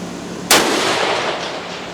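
A single sharp, loud rifle shot cracks out at a target, followed by a long reverberating boom that slowly fades across open ground.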